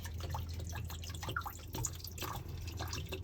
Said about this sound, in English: Hear job. that water gush out.